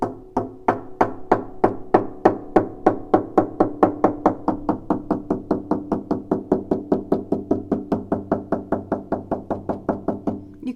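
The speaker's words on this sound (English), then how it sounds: "Now if I go to the back of my instrument, and I'm going to knock around here, you can hear that" Rapid, steady knuckle knocks on the wooden back of a cello, dozens of close, hollow resonant taps in an even rhythm lasting about ten seconds, no talking.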